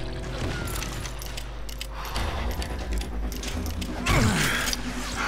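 Gunfire in the Western shooter Call of Juarez Gunslinger, dense bursts of shots crackling over a constant low game rumble, with a louder volley near the end.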